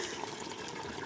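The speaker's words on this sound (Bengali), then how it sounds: "তাহলে একটু জল দিতে হবে" Water poured into a pot of village-style chicken kasha cooking over a clay stove, a steady close wash of liquid lasting about a second with no talk.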